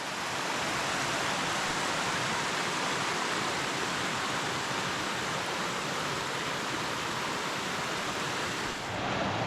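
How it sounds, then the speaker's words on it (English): Clear stream cascading through a rocky gorge along Wilson Run in Apollo County Park, a steady, full rushing roar of water running unbroken and close throughout. "super clear water, and it is cascading through this rocky gorge"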